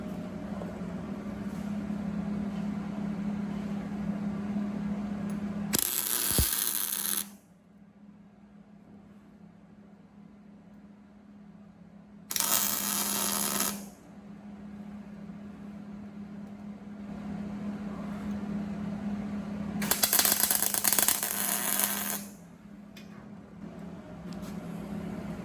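Three short, crackling tack-weld bursts joining a steel plate and angle into a Model A hotrod frame, each lasting a second or two, separated by quieter pauses over a low electrical hum.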